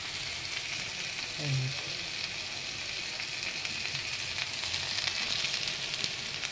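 Potato curry frying in a pan on a home stove, a continuous soft sizzle with occasional stirring scrapes, steady and close throughout, with no talking.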